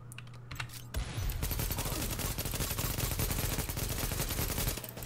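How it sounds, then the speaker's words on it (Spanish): Automated turret firing in The Division, a rapid, sustained burst of loud gunfire rattling continuously for several seconds at close range after a brief quieter lead-in. "Ah, vale, es una torreta"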